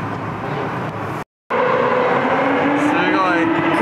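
Cars fitted with expensive aftermarket exhausts roar past at legal speeds, out of sight, their loud booming exhaust note echoing and rising and falling. The sound briefly cuts out, and people talk over it.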